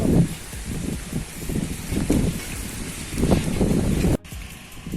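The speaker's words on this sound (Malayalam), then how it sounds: "അപ്പം മഴ പണി തുടങ്ങി." Rain falling outdoors during a bicycle restoration, a broad steady patter with gusty, windy rumble close to the microphone that drops abruptly near the end.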